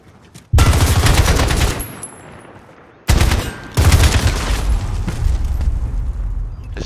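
Video game gunfire in two loud, close bursts of rapid shots, each trailing off into a rumbling decay, separated by a short lull.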